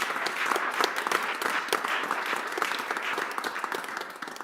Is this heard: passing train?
no